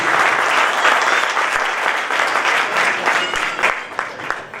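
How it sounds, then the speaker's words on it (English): Audience applause at the DHRPA annual day 2020 for Dr. Manoj Kumar Patil: a full, steady roar of crowd clapping that thins slightly near the end, with scattered individual claps poking through. "So big round of applause for Dr. Manoj Kumar Patil"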